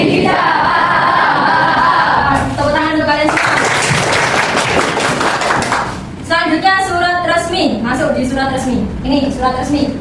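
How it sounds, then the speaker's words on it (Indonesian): A classroom of students claps together in a dense burst of applause, mixed with children's voices chanting and talking loudly before and after. "Tepuk tangan untuk kalian semua."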